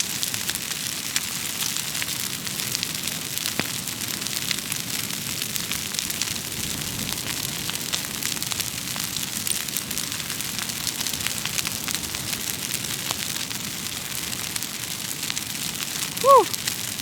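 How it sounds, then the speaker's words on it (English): A bonfire at a farm roars steadily, with a continuous dense crackle and hiss at an even level throughout, and a brief faint squeak near the end. "Bonfire's roaring now."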